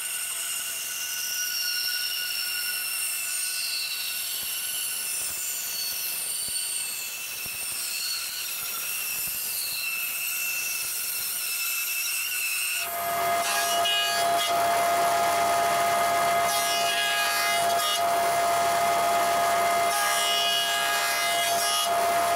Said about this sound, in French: On va venir couper comme ça dans la tranche les traverses intermédiaires.